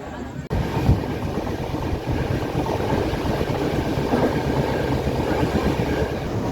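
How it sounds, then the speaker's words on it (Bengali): A superfast express train runs toward Kharagpur station, with a steady loud rumble and rattle heard from inside the carriage and faint voices underneath. "এখন আমাদের ট্রেন ঢুকে যেতে খড়গপুরে"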